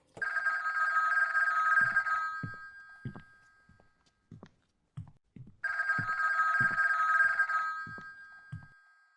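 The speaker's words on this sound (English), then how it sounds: "her phone rings" An old 1980s home telephone rings with a trilling electronic bell in two long bursts separated by a pause, with faint thumps and clicks in the quiet gap.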